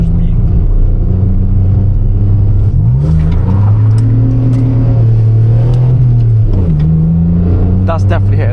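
A car engine revs and holds a steady drone, rising and falling in pitch as the throttle changes, loud and close throughout, with a brief voice near the end.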